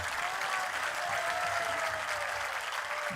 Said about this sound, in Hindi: इतने ढीले ताली बजाओगे तो क्या होगा?